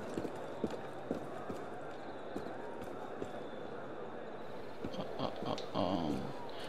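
Rhythmic clip-clop of horse hooves trotting steadily in Assassin's Creed Unity, with game background ambience and a soft whinny near the end.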